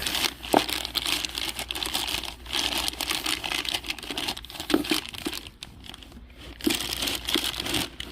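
Plastic packaging around a Moog CV axle for a Toyota Avalon crinkles and rustles up close in irregular bursts, with scattered sharper crackles and handling noises over several seconds.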